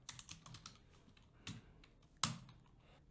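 Quiet keystrokes tap in uneven bursts on a computer keyboard while VBA code for merging Excel sheets is entered. A louder click stands out near the end.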